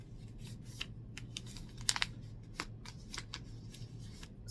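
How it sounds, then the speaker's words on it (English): A sheet of paper is folded in half, giving a few quiet crisp crinkles and soft creasing rustles at close range in an otherwise quiet room. "And then I'm going to fold it twice in half"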